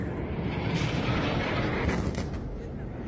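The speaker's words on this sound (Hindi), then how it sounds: "भयंकर आग लगी हुई है। विस्फोट हो रहा है।" Rumbling blasts and burning in the Israel-Lebanon conflict: a continuous heavy roar with a few sharper booms, distant and dense, with no clear voices.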